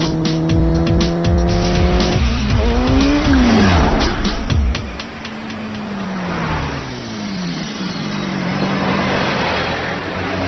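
Tires squeal and skid loudly as a vehicle roars through an action-movie motorbike chase, the pitched engine and screeching sweeping up and down before settling into a steady rumbling drive.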